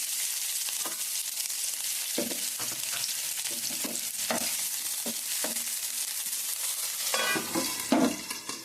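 Onions fry in hot oil with a steady, close sizzle. Scattered pops and stirring clatters break through it throughout, and there is no talking.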